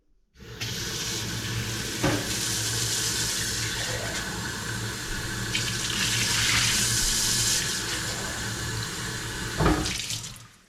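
Kitchen tap water runs steadily for about ten seconds, a close, even hiss with a brief clunk near the start and another near the end as the flow shifts, no voices.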